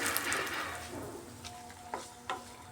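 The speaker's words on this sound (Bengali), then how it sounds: "তেজপাতা আর শুকনো লঙ্কাটা একটু ভাজা ভাজা করে নিচ্ছি" Bay leaf and dry red chilli frying in a generous amount of mustard oil in a pan, a steady soft sizzle with a few sharper crackles and light stirring scrapes near the end.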